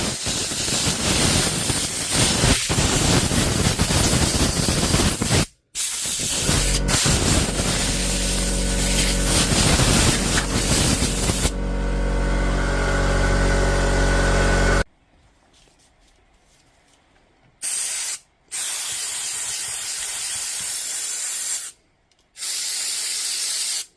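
Compressed air from a compressor blasts through a DeWalt power tool under repair, a loud roaring hiss in long bursts with a short break, then quieter intermittent puffs separated by silence.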